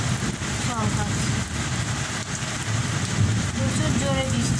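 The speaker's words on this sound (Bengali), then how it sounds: "প্রচুর জোরে বৃষ্টি হচ্ছে।" Heavy monsoon rain pours steadily onto surfaces during a thunderstorm with lightning, a dense, loud, continuous hiss with a low rumble underneath and faint voices in the background.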